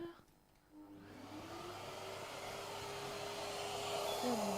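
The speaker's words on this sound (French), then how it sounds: "Donc, j'allume juste l'aspirateur." Workshop vacuum cleaner switched on to extract dust while milling, rising from quiet to a loud steady whine and rush that holds and grows slightly stronger, with a faint tone shifting underneath.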